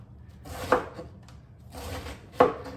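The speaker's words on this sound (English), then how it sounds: "I'm just gonna chop up what I have here." A knife chopping clean lettuce on a cutting board during meal prep, with two distinct sharp cuts amid soft rustling, close and fairly quiet.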